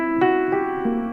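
A short music sample taken from a song plays alone with a sustained, harmonically rich tone and a few soft note changes, and no talk over it.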